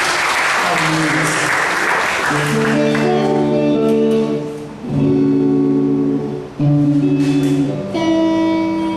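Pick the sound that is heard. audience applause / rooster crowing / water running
audience applause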